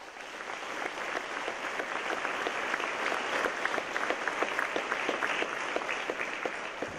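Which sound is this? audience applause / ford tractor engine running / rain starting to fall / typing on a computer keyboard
audience applause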